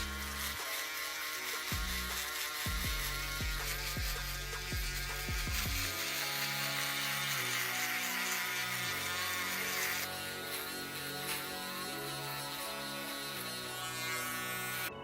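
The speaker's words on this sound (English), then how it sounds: "I'm gonna take my shaver and I'm just gonna go over that and clean it up" A steady electric buzz from a shaver trimming a beard runs throughout, its pitch shifting as the blades press and move, with no talking.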